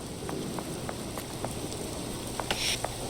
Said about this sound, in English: It looked like it was only raining right there.